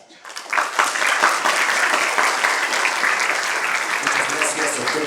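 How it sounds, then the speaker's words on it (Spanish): Audience applause closing a lecture on law and democracy in the digital era at an international law seminar; dense, sustained clapping from a large crowd that swells in quickly and holds steady throughout. "Con estos aplausos hemos agradecido su ponencia Derecho y Democracia en la Era Digital."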